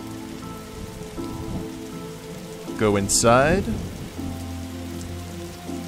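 Steady rain patters and hisses in The Darkside Detective video game, continuous and moderately close, while a voice briefly speaks over it midway.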